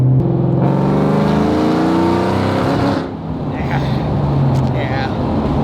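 A Ford Mustang Terminator Cobra engine revs and sputters around 3,000 RPM after vacuum leak fixes, a loud steady close drone that briefly dips and falters midway before roaring back.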